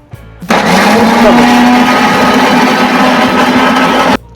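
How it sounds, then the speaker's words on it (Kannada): A mixer grinder blending apple without water whirs loudly and steadily for about four seconds, starting abruptly and cutting off sharply, with a faint hum before and after. "ಈಗ ಆಪಲ್ನ ಮಿಕ್ಸಿ ಮಾಡ್ಕೊತಾ ಇದ್ದೀನಿ"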